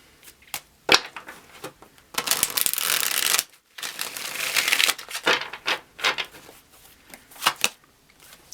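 Tarot cards are shuffled by hand in a series of crisp riffling bursts and taps, close and fairly quiet, with brief pauses between.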